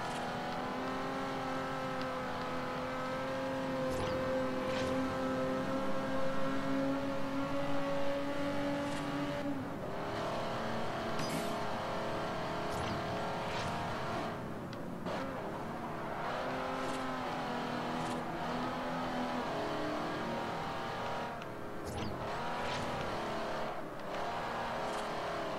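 Race car engine in Forza Horizon, a sustained roaring drone that rises in pitch through the gears, lifts off, then revs again, running continuously for the whole stretch without talk.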